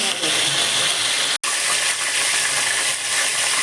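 A fish head frying in a pan, with a constant loud sizzle and hiss broken by one brief cut-out as the head is turned over, then sizzling resumes.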